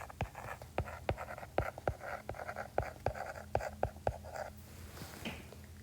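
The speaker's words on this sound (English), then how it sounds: "let me write down what that means" Handwriting during a math lesson on evaluating expressions, a steady run of sharp pen or marker taps and scratchy strokes over a low hum, close and moderately quiet.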